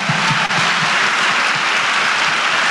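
A congregation at a church service in Lechería, Venezuela, claps steadily, a dense and uniform wash of many hands filling the room with almost no gaps.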